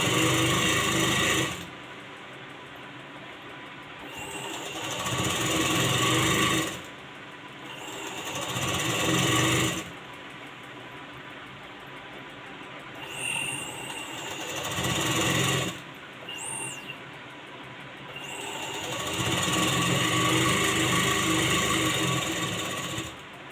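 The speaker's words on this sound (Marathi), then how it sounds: "सरळ ब्लाऊजवरती उलटी पट्टी जोडून आपण 2 इंचाचं मार्जिन ठेवून शिलाई करून घ्यायची" A sewing machine stitches a reverse strip onto a straight designer blouse with a two-inch margin, running in several loud bursts separated by short pauses, with no talking.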